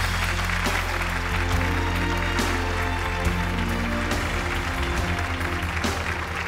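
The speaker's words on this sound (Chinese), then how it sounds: "掌声有请妈妈" A TV talk-show studio audience gives loud, dense, continuous applause to welcome a mother onto the stage, sustained throughout with no speech over it.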